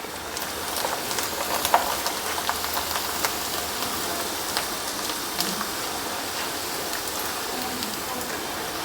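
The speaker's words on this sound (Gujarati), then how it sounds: "કુરકુરે તેલમાં ઉમેરી દઈએ" Poha kurkure drops into hot oil and fries with a soft, crackly sizzle and scattered pops, fairly quiet and steady throughout.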